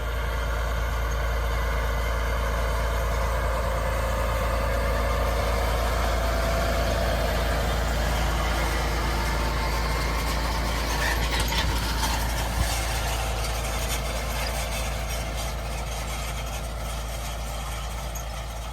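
A John Deere 8RX 340 tractor cultivating 24 rows of corn gives a steady, deep engine drone with a constant low rumble, heard up close and alone for the whole stretch.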